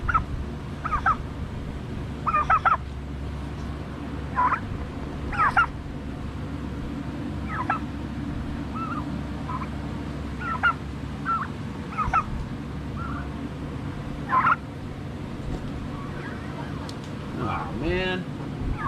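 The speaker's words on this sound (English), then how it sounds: "Ducks and turkeys." Turkeys gobbling beside a Harley motorcycle being welded, repeated short gobbles at irregular intervals over a steady low hum, fairly close.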